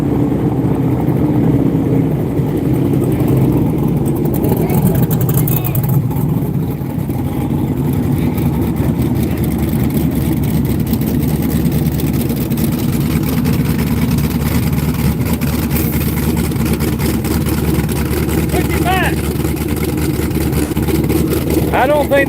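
A drag race car belonging to someone runs its engine at a Gainesville, Florida drag strip, a loud continuous drone that holds steady throughout with faint voices underneath.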